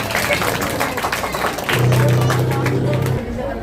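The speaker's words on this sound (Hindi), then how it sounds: "जोरदार ताली बजाएं इसी के लिए" Audience applause at a school Independence Day function at a government higher secondary school in Ishwar Nagar, Keshoraipatan: a dense, continuous crowd clapping throughout, with a steady electric hum joining mid-way.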